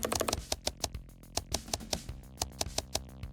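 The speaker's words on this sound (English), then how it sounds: "I googled for thockiest mechanical keyboard sound" Mechanical keyboard clicks used as the click sound effect in a clicker game built in Unreal Engine 5: a fast burst of keystrokes, then single crisp, thocky clicks spaced out steadily. Close and clear, with no voices.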